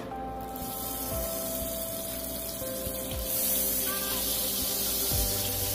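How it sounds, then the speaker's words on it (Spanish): Olive oil and butter hissing in a hot frying pan for garlic shrimp, a bright continuous sizzle up close that swells louder partway through, with faint clinks and no talking. "Vamos a agregarle los 30 mililitros de aceite de oliva y los 45 gramos de mantequilla."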